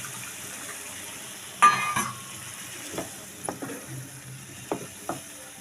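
A little water goes into a pan of frying broccoli and potatoes, raising a short, sharp hiss followed by quieter sizzling and scattered utensil clicks.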